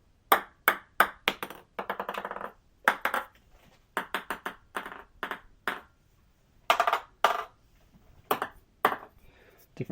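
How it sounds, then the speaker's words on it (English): A ping pong ball bounces close to a Finalace AudioWow B2 3D binaural microphone, with bright, hollow pings in quick clusters and short rattling runs, separated by brief pauses and no talk. "Ping pong ball."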